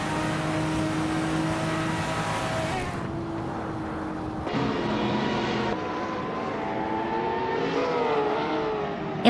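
Porsche 911 GT race car in a racing video game at top speed, a loud sustained engine drone with shifting pitch and gear changes, continuous and close throughout.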